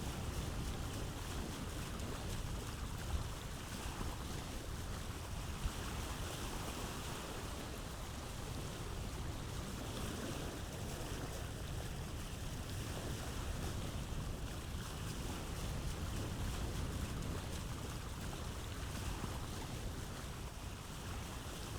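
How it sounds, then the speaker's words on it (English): A boat sailing over waves in Vintage Story, with a steady wash of water and wind rushing past, continuous and even throughout, no voices. "We're going to be sailing for a while."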